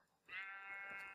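A single sheep bleats in the Minecraft video game, one drawn-out wavering cry about a second long that starts abruptly after a brief quiet moment and stays clear and fairly close.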